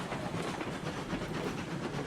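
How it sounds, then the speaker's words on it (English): Steam locomotive running in the railway game RailRoads Online, a steady dense rumble and hiss with rolling rail noise, continuous and fairly loud with no talking. "I think this is probably the most usable loco in the game currently"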